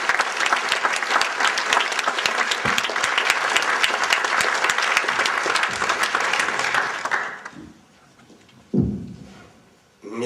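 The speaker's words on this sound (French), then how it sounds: "Monsieur Bernard Stasi, sous vos applaudissements." Loud, sustained audience applause at an event honoring a speaker, with dense clapping for about seven seconds. It then fades out abruptly, leaving a brief burst of noise and near quiet.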